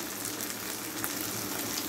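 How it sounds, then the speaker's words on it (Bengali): Boneless poya fish sizzling steadily in a hot pan with oil, gently stirred, a dense continuous fry crackle heard up close with no voices. "একটু হালকা নেড়ে দিব যেন একটু ভাজা ভাজা হয়"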